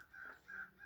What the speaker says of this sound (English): hear those crows?